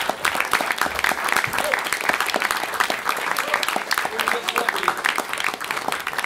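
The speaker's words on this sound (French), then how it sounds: "je vous propose d'accueillir et d'applaudir le président de l'ANSTI, Philippe Guillet." Sustained applause from a sizable audience at an awards ceremony, dense steady clapping throughout at a moderate level, with no talking over it.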